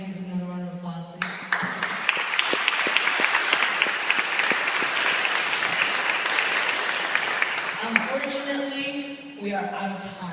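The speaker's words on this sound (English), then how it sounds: "If you give another round of applause, please." An audience applauds panelists at the close of a panel discussion: a sustained round of loud, dense clapping, with a voice speaking briefly before it starts and again as it fades.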